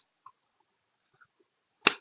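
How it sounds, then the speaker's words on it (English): One sharp hand clap rings out alone after near silence, with faint small clicks before it. "Just a little clap."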